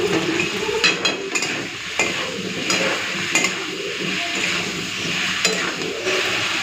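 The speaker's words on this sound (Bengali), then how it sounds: "এই আলু আর কচুর সাথেই মশলাটাকে ভালো করে ভেজে নেব" Spice paste frying with chunks of potato and taro in a pan, close sizzling mixed with intermittent scrapes and clinks of a spoon stirring against the pan, steady throughout with no speech.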